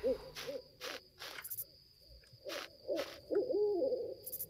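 An owl in the stealth video game The Dark Mod hoots repeatedly in short, evenly spaced calls over a quiet nighttime ambience, clear and moderately close, with no talking.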